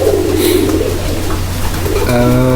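Pigeons coo in low, throaty rolling calls close by against a steady hum, a second bird joining near the end with a clearer, higher call.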